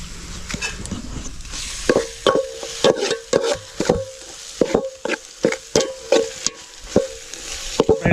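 Chicken pieces being stirred with masala in a pan for a village-style chicken gravy cooked outdoors; repeated scraping strokes of a spoon against the pan in a loose rhythm over a soft background sizzle, close and alone.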